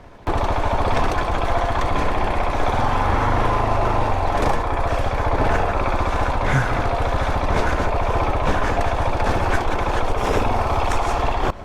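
A KTM 690 Adventure R motorcycle engine running steadily and loudly at close range, a continuous rough single-cylinder drone with slight throttle changes, no talking over it.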